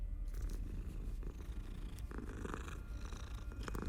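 A cat in Hogwarts Legacy purrs steadily while being petted, a low continuous rumbling purr close up and fairly quiet, with no voices over it.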